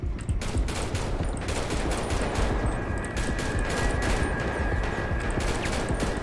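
Dense, continuous bursts of AK rifle gunfire in a GTA RP video game shootout, loud and sustained rapid shots layered over one another without pause.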